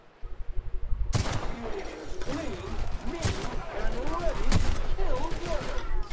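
Gunfire in The Outer Worlds, with several sharp shots or short bursts spread across a few seconds after a quiet start, mixed with game ambience and a person talking throughout.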